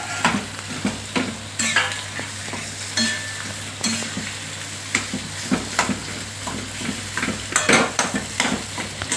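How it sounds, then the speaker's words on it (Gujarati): Potato masala for vada fries in a pan while being stirred hard: close, repeated scraping and clattering strokes ride on a steady loud sizzle throughout, with no voices. "બહુ મસ્ત મજાનો મસાલો મિક્સ કરી નાખ્યો છે મારા મમ્મીએ."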